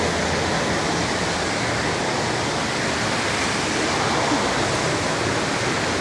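Waterfalls spill into the lagoon at the Atlantis resort on Paradise Island in Nassau, Bahamas, making a steady, dense rushing roar that stays loud and unbroken throughout.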